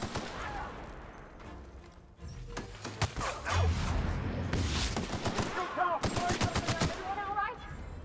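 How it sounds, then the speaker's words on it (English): Enemy gunfire in The Outer Worlds comes as repeated sharp shots and bursts of automatic fire mixed with crashing impacts. Someone speaks over part of the firefight. "Who else is firing at us?"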